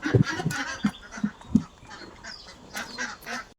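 Domestic ducks quack in a series of loud, close, honking calls, about five or six bursts in quick succession, with fainter chatter from the flock afterward.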